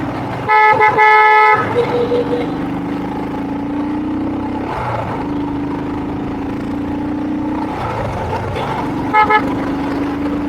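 Road traffic on a beach road at night, with a steady engine drone and car horns blaring, one long honk near the start and a shorter toot later.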